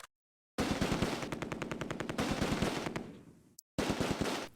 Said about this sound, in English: A machine gun opens up on the right.